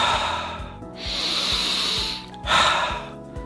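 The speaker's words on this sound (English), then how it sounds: "take a few deep breaths." A few slow, deep breaths taken close up after an acupressure exercise for neck soreness, each a long airy inhale or exhale separated by short pauses, heard alone.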